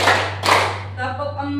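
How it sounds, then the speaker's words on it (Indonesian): A group of people claps in unison at a school training session, with two loud broadband clap bursts early on, followed by voices speaking and a steady mains hum underneath. "Tepuk 1, tepuk 2, tepuk 3,"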